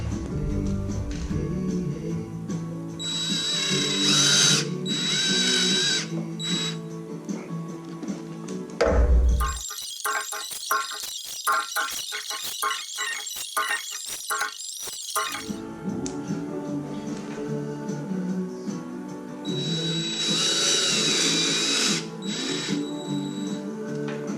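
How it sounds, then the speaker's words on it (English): A power drill whirs in a steady burst of several seconds, loud and close, with short pulsing bites as it drills through a sneaker sole, framed by quieter handling noises. "now I'm gonna take my drill, which makes it real easy."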